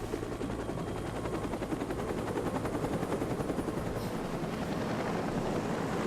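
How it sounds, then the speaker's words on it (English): Steady, loud rotor thudding of a helicopter in the video game State of Decay: Lifeline fills the whole stretch, a dense rhythmic chop with broad noise and no voices. "Ah, a helicopter."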